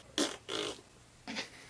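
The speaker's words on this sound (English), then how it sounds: "All this helium is making me have to fart." Three short, breathy fart bursts come close together, the first two back to back and the third after a brief pause, fairly faint with no talking.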